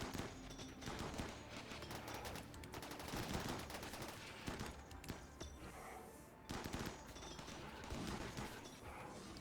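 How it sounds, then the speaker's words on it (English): Rapid sustained gunfire from colonists in the Rimworld video game, aimed at a Lancer mechanoid, crackles in dense overlapping bursts for the whole stretch, loud and continuous with a brief lull near the end. "you are going to fire against this"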